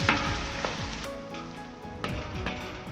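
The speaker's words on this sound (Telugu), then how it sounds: "ఇప్పుడు రెడీ చేసుకున్న నూడిల్స్ వేస్తున్నాను. నూడిల్స్ వేసి బాగా ఫ్రై అయ్యాక" Egg noodles and vegetables stir-frying in a kadai for street-style spicy noodles: a steady close sizzle with scraping stirs and occasional louder clanks of the spatula, no talking.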